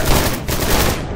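Heavy sustained automatic gunfire in the video game Dark, a loud dense fusillade of rapid shots filling the whole moment without pause.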